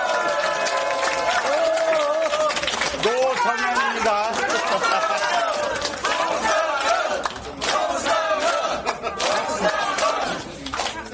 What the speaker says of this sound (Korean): 큰 박수로 부탁합니다